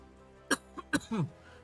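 A person coughs several times in quick, sharp bursts, the last one rougher and drawn out like throat clearing, close and fairly loud.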